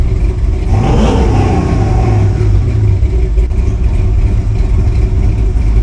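LS-swapped square body Chevy truck engine, a loud close rumble with a rev that swells and falls back to a steady idle.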